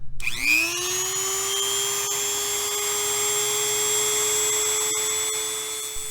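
A Dremel rotary tool spins up quickly and holds a steady, loud high-pitched whine while grinding down wood, running continuously up close before easing off at the end.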